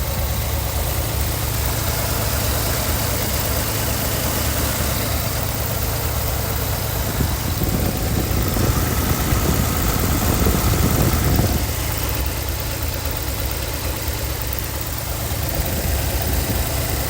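A 1964 Chevrolet Corvair Monza Spyder's air-cooled turbocharged flat-six engine idles steadily, miked up close, giving a constant loud mechanical hum with a rougher, busier patch partway through.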